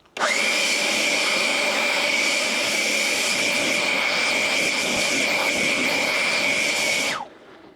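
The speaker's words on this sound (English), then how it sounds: "If anybody's in the market for a leaf blower, I bought this thing on Amazon." A cheap cordless leaf blower running on DeWalt batteries whirs up quickly and holds a loud, steady, high-pitched whine for several seconds, then cuts off and spins down.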